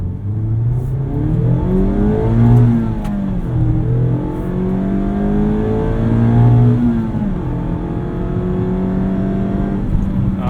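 A 2019 Mazda MX-5 Miata RF Grand Touring engine revs hard toward redline, its note climbing and falling through several loud pulls heard from inside the cabin.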